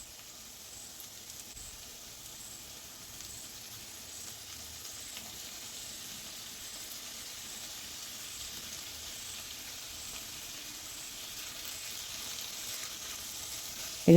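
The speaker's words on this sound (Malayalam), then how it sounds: "ഇത് ഫ്രൈ ചെയ്തെടുക്കുന്നത്" Carrot and potato pieces frying in a pan give an even, continuous sizzle, steady and moderately loud throughout, ending with a sudden knock.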